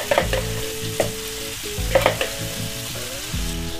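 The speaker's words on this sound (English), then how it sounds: "I'm just gonna go ahead and spoon the rest of this marinade over top." Marinade being spooned over fish frying in a pan, with a steady sizzle and repeated clinks and scrapes of the spoon against the pan, close up and without talk.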